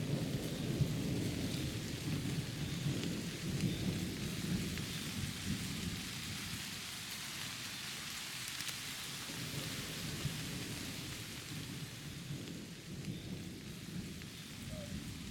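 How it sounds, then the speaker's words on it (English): Steady rain pours throughout with low rumbling thunder rolling overhead, a continuous stormy wash with no voices. "you can hear the thunder above us"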